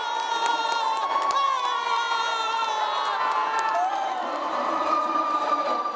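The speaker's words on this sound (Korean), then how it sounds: "관중석의 열띤 응원이 이어질수록 해녀들의 움직임도 점점 더 힘차집니다" Spectators at an indoor pool cheer a relay swimming race between haenyeo divers at a festival, a dense continuous roar of shouts and whoops with excited high voices that echoes loudly throughout.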